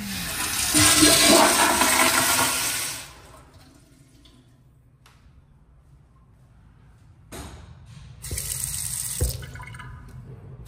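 A toilet flushes in a women's restroom at a university dining center, a loud rushing whoosh for about three seconds that drains into quiet refill trickling, followed by a second burst of running water near the end.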